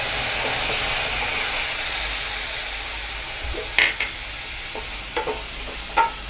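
Lemon juice and turmeric being stirred in a hot pan, with a steady sizzling hiss and a few sharp scraping clicks of the spoon against the metal toward the end, no voices.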